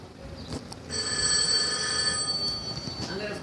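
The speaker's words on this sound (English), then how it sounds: "There's a phone now." A telephone rings nearby with a bright, sustained electronic tone that starts about a second in and continues without a break, over quiet background noise.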